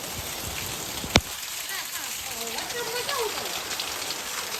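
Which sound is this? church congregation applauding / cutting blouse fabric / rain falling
rain falling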